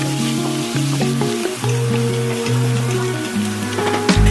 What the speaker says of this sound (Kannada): ಇವಾಗ ನೆಕ್ಸ್ಟ್ ನಾನು ಕ್ಯಾಪ್ಸಿಕಮ್ ಹಾಕ್ತಾಯಿದ್ದೀನಿ. ಒಂಚೂರು ಫ್ರೈ.